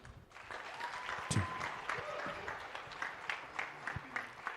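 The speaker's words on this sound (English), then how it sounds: "Let's give it a big round of applause, ladies and gentlemen, to our fellows." A crowd at a conference on innovation in Africa applauds with scattered claps that thin toward the end, heard at a moderate distance with some murmuring voices mixed in.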